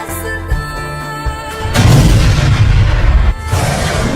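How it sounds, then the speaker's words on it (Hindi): A Diwali firecracker bomb bursting outdoors, a loud booming blast that rumbles for over a second before a brief pause and a second lingering burst, after a quieter lead-in. "तब तक बम फोड़ लेता हूँ।"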